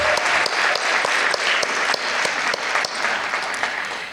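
Steady audience applause at a film festival awards ceremony, a dense, even stream of many hands clapping with occasional sharper individual claps standing out, continuing alone without talk.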